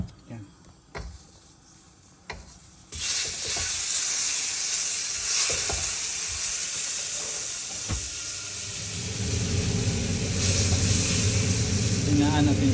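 Chicken hits hot butter in a pan and erupts into loud, continuous sizzling that swells further midway, with a voice speaking now and then.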